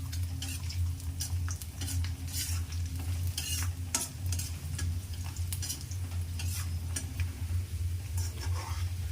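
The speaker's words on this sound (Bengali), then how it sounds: "এই তেলের মধ্যে আমরা আদাটা আর এই রসুনগুলোকে দিয়ে দেবো, এগুলোকেও একটু ভেজে নেব।" Ginger and garlic frying in hot oil for a masala achar, with a steady close sizzle and repeated scraping stir strokes of a utensil against the pan throughout, no talking.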